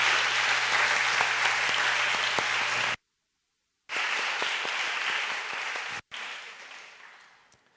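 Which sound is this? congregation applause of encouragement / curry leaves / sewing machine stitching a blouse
congregation applause of encouragement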